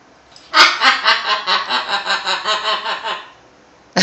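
A pet bird gives a rapid, rhythmic laughing call of about a dozen pulses, loud and close, alone without talk.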